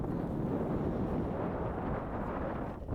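Strong wind on Lake Okeechobee buffets the microphone in a continuous loud low rumble, easing slightly at the very end.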